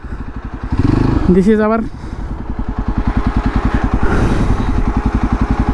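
A 2024 Yezdi Adventure motorcycle idles close by with a steady, pulsing engine thump, as someone speaks over it at the start.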